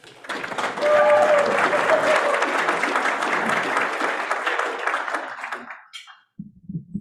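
An audience at a weekly meeting applauds to welcome two speakers, with dense, steady clapping that swells quickly, holds for several seconds, then fades out before a voice begins.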